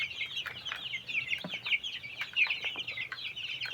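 Young roosters and chickens cluck repeatedly at close range, a busy overlapping chatter of short calls from several birds with a faint low hum beneath.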